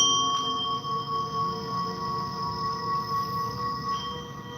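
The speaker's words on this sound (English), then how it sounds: "As I pull up my sound bowl" A sustained metallic ringing tone with steady overtones, a bowl rim being rubbed, holding evenly at moderate loudness without any voices.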